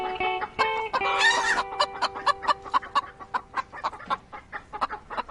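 Farm chickens cluck in quick, uneven bursts, with one drawn-out squawk early on, then a steady run of sharp clucks close by with no talk.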